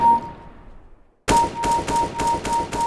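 Rapid gunshots fired at practice targets in a CS:GO aim workshop map, a burst of five or six loud evenly spaced cracks following a faint quiet stretch, no talking.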